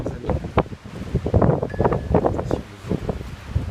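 Wind gusting across an abandoned tennis court overgrown in a permaculture garden, a steady rough rumble with buffeting gusts and rustling, close and fairly loud.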